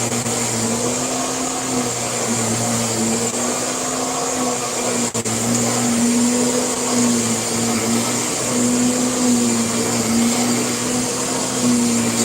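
A high-end vacuum cleaner running steadily at close range, with a constant motor whine and airflow drone and one brief dip partway through.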